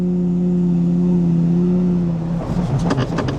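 A Lamborghini Gallardo with 88,000 km idles with a steady droning engine hum, then the throttle blips and the revs climb into a rough, raw burst, loud and close.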